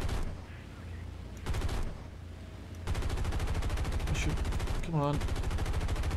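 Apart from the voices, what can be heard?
B-25 bomber machine gun fire in video game War Thunder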